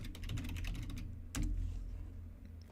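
Quick clusters of keystrokes on a computer keyboard, a rapid run of clicks followed by a single louder tap, faint and close over a low background hum.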